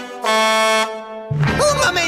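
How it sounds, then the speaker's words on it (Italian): Cartoon monster truck horn honking, one loud sustained blast lasting over half a second, followed by an animated character speaking excitedly. "Conosco quel clacson!"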